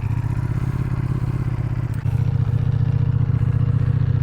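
A Ducati Panigale V4S sport motorcycle with factory exhaust idles steadily and loudly with a deep, throaty rumble, briefly dipping then settling back into its constant growl.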